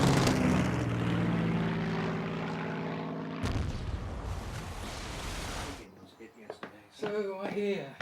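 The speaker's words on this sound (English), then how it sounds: "Me-109s, are engaged by Spitfires from 64 Squadron and Hurricanes from 111 Squadron" Propeller fighter engines drone and roar in a loud, sustained wash, cutting off abruptly into faint background and quieter broken sounds, mixed with a narrating voice, in a dogfight between Spitfire and Hurricane fighters.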